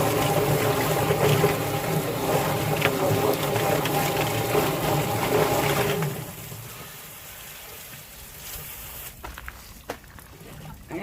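A Yardbird 1.5 horsepower chicken plucker runs with a loud, steady motor drone and sloshing water and feathers while broilers are processed, then quiets after about six seconds to a lower whir with scattered knocks.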